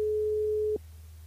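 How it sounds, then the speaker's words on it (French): A steady telephone line tone sounds while a listener is being called during a live radio show, then cuts off abruptly, leaving a low background hum. "Et après, on appelle Lucie"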